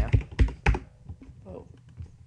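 A computer keyboard clacking as a search for Winamp is typed in a browser: a few heavy, close keystrokes at first, then softer scattered taps under a low murmur of voice.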